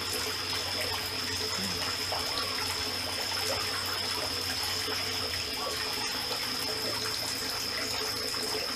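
Pumped water pours steadily into a pond, a continuous splashing rush with a drum-like tone at the point of entry, holding even and close throughout with no talking.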